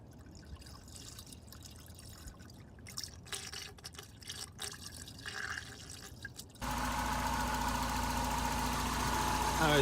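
A car engine starts up after quiet shuffling and drips, then idles steadily and loudly as it warms up after a coolant refill, with the hum slowly growing louder.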